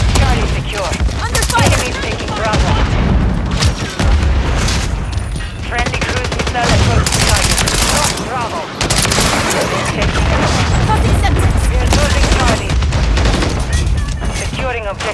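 Heavy gunfire rattles through a Modern Warfare 3 match on the Shipment map, relentless bursts of automatic and single shots overlapping loudly and close for the whole stretch, with voices calling out beneath the shooting.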